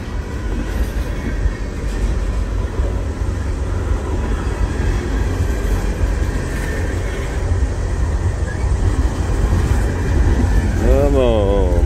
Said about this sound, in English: I still say it's a Knoxville train.